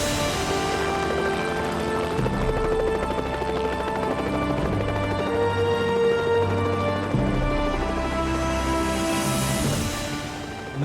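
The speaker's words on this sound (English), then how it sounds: "Moments later, I heard that helicopter approach." A helicopter approaching on an alpine ridge in the French Alps, its steady rotor thrum and engine whine loud and continuous, growing slightly brighter toward the end with no voices.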